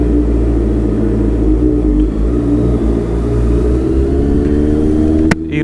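A Honda CBR 650R motorcycle engine runs close by after warming up, a loud steady rumble that swells slightly in places, with a sharp click near the end.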